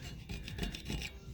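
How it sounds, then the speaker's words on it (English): Hand sanding or scuffing a part from a 1978 Kawasaki KZ650 motorcycle to dull the surface for paint, a short run of close, rhythmic rasping strokes with no talk. "Then we'll start with some sanding"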